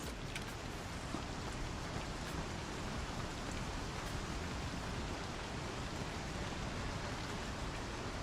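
Steady rain in the video game Star Citizen, a dense continuous hiss with scattered droplet ticks, fairly loud and even throughout with no talking.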